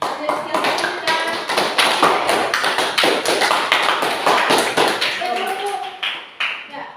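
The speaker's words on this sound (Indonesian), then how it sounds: "Tepuk tangan untuk yang memberikan kesimpulan kita pada hari ini." Students in a classroom break into a burst of rhythmic, close applause that carries on through the whole stretch.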